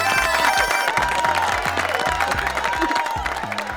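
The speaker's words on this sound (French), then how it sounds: "On peut applaudir mais- l'équipe des Bleus." A crowd claps and cheers for the Blues team in a dense, sustained burst of applause, with some voices mixed in, holding steady and tapering slightly at the end.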